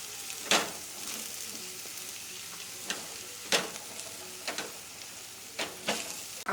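Green garlic and fresh turmeric sauté in a pan for a North Gujarati green turmeric curry, giving a steady close sizzle broken by several sharp scraping stirs at irregular intervals, with no talk.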